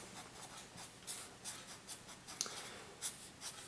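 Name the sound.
writing out a math equation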